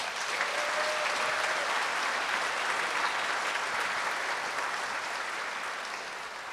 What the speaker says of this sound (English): we should all applaud ourselves for that